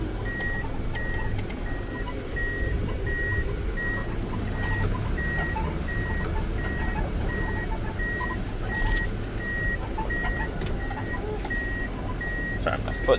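Steady evenly spaced reversing beeps ring out over the low idle rumble of a Mitsubishi FE84 truck in reverse, continuing throughout with no talking.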